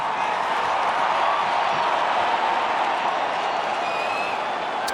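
A football stadium crowd at a 2022 Arkansas vs Ole Miss game in Fayetteville sends up a loud, sustained roar with scattered cheers that holds steady from start to finish.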